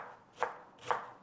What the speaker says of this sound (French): Je viens donc de hacher le cœur du chou très fin